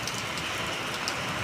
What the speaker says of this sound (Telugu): చూడండి ఎంత పెద్ద వర్షం పడుతుందో.